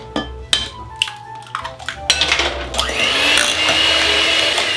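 Eggs being mixed one at a time into Basque burnt cheesecake batter: a few sharp clicks and knocks, then a loud, steady mechanical whir of mixing that runs continuously up close.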